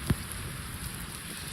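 Heavy rain pours steadily onto a property during flooding, a broad hiss of water on surfaces with one brief knock near the start, no talking.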